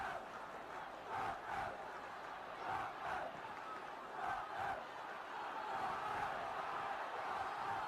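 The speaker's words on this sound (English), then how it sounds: "Oh, there are the Tottenham supporters" Tottenham supporters chanting and cheering in a football stadium, a distant crowd roar swelling in rhythmic waves, faint and steady throughout.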